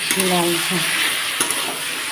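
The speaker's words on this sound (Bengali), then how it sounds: "এরকম ভাজতে ভাজতে ভাজা হয়ে গেছে" Spices frying in a pan with a steady close sizzle while a utensil stirs and scrapes, briefly clinking against the pan, loud and continuous with no talking.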